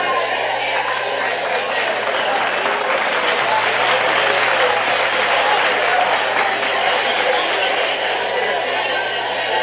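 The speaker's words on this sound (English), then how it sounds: "Let's give a round of applause for TZ." Loud, sustained clapping from a crowd at a birthday party at Chuck E. Cheese's, steady and dense throughout, with some chatter mixed in.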